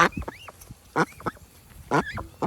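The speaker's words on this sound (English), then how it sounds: "I'm gonna give Lucy Goose" A goose gives short nasal honks in three spaced bursts at close range while being hand-fed seeds in a garden, with a few softer calls between them.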